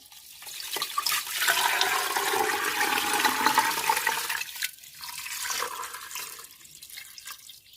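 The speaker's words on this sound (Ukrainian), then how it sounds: "Заливаю студену воду." Cold water pours steadily into a cooking pot holding pork on the bone, a rushing, splashing fill that swells after the first second, eases off near the middle and fades out, with no talking.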